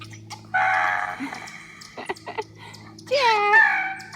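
A hen perched on a donkey's back clucks and squawks close by in two loud bursts, the first sustained, the second rising and wavering, with quieter cackles and faint farmyard noises between.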